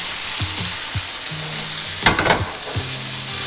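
Breaded beef milanesa steak frying in hot oil: a steady, loud sizzling hiss throughout, with a brief burst of sharper crackling and spattering partway through.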